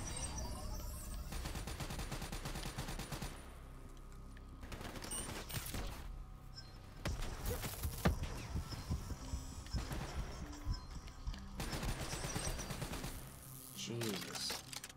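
Light machine gun fire in Call of Duty Black Ops 3 campaign combat, sustained rattling bursts layered with explosions, effects and game audio, with brief lulls between volleys.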